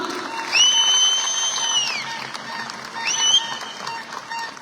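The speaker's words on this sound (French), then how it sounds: "Un grand applaudissement pour nous, un grand monde." A crowd at a political speech breaks into applause, a broad, sustained roar of clapping with a couple of sharp, high whistles rising over it.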